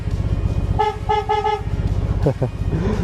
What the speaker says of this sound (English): This is a horn.